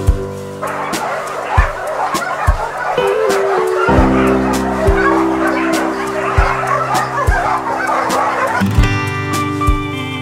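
A dog yips and barks repeatedly at its own reflection in a mirror, sharp close barks and whimpers over music, with a bit of laughter in the room.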